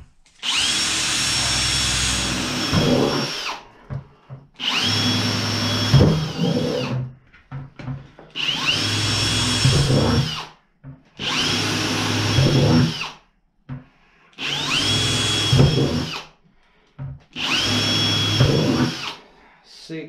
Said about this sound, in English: What I have here is a 1/2 inch drill bit